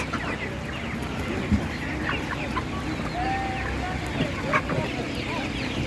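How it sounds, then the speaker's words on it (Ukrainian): Hens cluck softly and intermittently at an outdoor animal market, amid rain-like noise and a faint voice murmuring nearby. "Гарна така курка вона."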